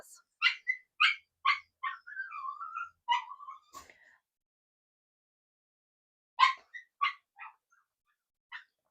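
A puppy in its pen whines and yips in short high-pitched bursts, close and clear, with a quiet pause before a few more whimpers near the end.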